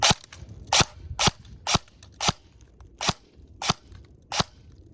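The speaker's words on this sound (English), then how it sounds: "Shots might be fired. Let's see how well these houses hold up. So, we're going to do maybe 4 or 5 shots." A gun fires at gingerbread houses in a durability test: about ten sharp, close pops at an even rhythm of roughly two per second, each one brief and loud, with no talk.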